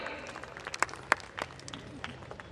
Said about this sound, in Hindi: तो एक बार जोरदार तालियां हो जाए यहाँ पे